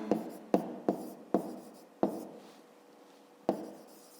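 Numbers are written by hand in a quiet room, about six sharp pen or chalk strokes at uneven intervals, each one a close scratch that fades quickly.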